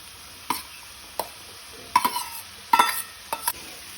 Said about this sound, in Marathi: आता हांव तातून घालता बटाट। बटाट आमी बारीक कापून घेतले ते घालुया।